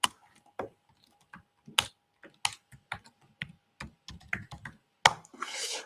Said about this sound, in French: Je tape le titre, puisque j'en ai pas sous la main.